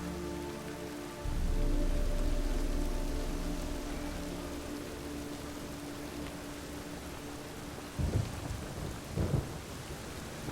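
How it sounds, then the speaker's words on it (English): Thunderstorm in The Witcher 3, with a heavy roll of thunder rumbling in near the start and steady rain hissing throughout, plus a couple of brief thuds later; no one speaks. "The storm, damn it."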